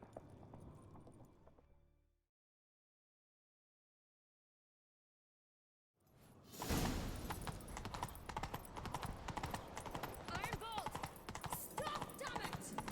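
Horse galloping in The Witcher 3, with rapid clip-clop hoofbeats and a possible whinny. The sound starts abruptly after a silent gap and continues loud and steady, with game audio layered over it.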